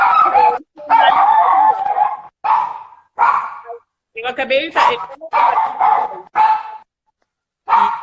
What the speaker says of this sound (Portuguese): minha cachorra tá enlouquecendo aqui